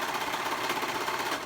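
A serger runs steadily as it stitches hoodie fabric with trim, giving a continuous close, even whir for a moment before it slows.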